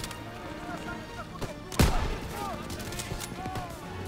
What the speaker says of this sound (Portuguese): Não dá pra avançar com essas metralhadoras atirando em nossa posição!